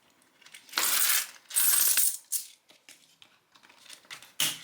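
Coins handled while cash stuffing a budget, several bursts of metallic clinking and jingling close by, with quieter rustles between, no talk.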